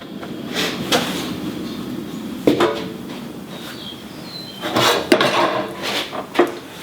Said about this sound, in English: Fire on, instantly get the pan on there.